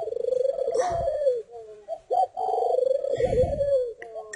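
Spotted doves kept for breeding coo steadily and close by, a continuous run of soft repeated hooting calls with a few brief gaps, with no talking.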